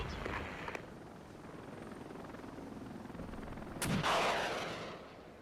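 A BO-105 helicopter in the Regiments war game thrums steadily at moderate distance. Sharp gunfire bursts sound at the start, and a louder blast-like rush follows near the end.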